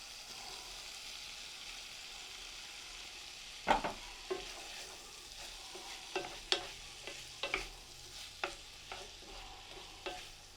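Softened tomatoes sizzling in a pan for chana masala, a quiet steady fry hiss broken by several sharp stirring scrapes and clicks of a utensil against the pan.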